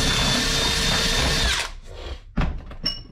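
Power drill spinning sandpaper inside a bushing bore to enlarge it slightly; a loud steady high whine runs for about a second and a half, then stops, leaving a few brief clicks and knocks.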